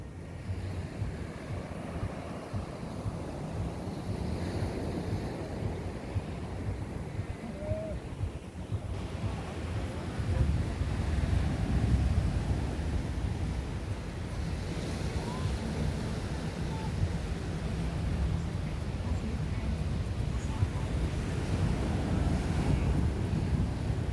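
Waves break steadily on Playa de la Fanabe beach in Tenerife, a continuous surf wash mixed with wind buffeting the microphone throughout, with no clear talk.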